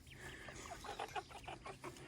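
Rhode Island Red chickens cluck in a soft series of short, repeated calls at moderate distance, quiet against faint background noise, with no one speaking.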